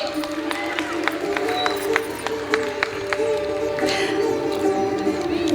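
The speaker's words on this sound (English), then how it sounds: "Give a huge round of applause for Mushtaq Bilal Sheikh" Applause for a student award winner at a school annual day celebration, a steady wash of clapping from a large seated crowd that carries on at an even level the whole time.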